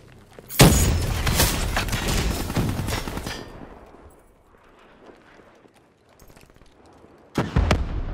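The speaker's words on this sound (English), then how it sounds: "Incoming frag." A frag grenade detonating in the shooter video game Call of Duty Black Ops III, a sudden loud blast with a rumbling, crackling tail that fades over a few seconds, then another sharp burst near the end.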